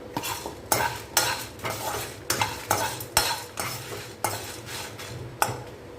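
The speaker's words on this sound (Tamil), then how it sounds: "கடலப்பருப்பு மிளகா வறுப்பட்டுருச்சு" Chana dal and dried red chillies dry-roasting in a pan for a sambar premix, stirred with a utensil that scrapes the pan in a steady run of about a dozen close, rhythmic strokes over a faint sizzle.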